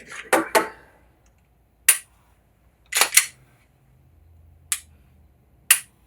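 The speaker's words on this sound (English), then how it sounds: "I'm going to dry fire it." A pistol with its magazine removed is dry-fired, producing a handful of sharp, isolated mechanical clicks and snaps, some in quick pairs, separated by quiet pauses, close up with no talking.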